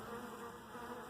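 Honey bees buzz in a dense, steady drone during a hive inspection, close and continuous, with no voices over it.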